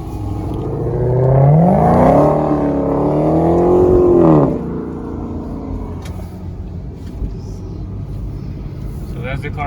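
A Dodge Challenger Hellcat V8 revs hard for several seconds, the pitch sweeping up and down in a loud rising-and-falling roar before cutting off. Steady road rumble follows, and a voice talks over it.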